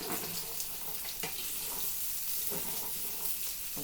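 Rice cakes for a fusion tteokbokki drop into a hot pan where meat is browning, setting off a steady close sizzle with a few sharper crackles and spits rising above the hiss.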